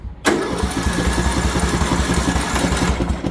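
Engine of a Bolens 38 inch riding mower cranking and catching, then running at a steady, close, loud idle with a pulsing mid-pitched chug.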